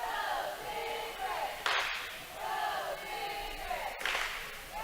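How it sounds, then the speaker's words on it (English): Spectators cheer in a gym during a high school volleyball match, a steady crowd roar with two brief louder bursts of shouting and clapping. "Oh, we've got some volleyball people here cheering."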